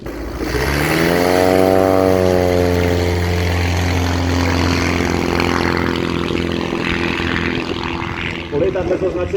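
A propeller race plane roars past at the Jasná air race, a loud close engine drone whose pitch sweeps downward as it passes, with talk faintly underneath.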